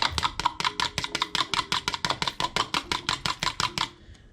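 A dalgona coffee mixture is whisked by hand at a fast, even rhythm, with crisp, regular taps and scrapes against the bowl running continuously for about four seconds before they stop, and no talking.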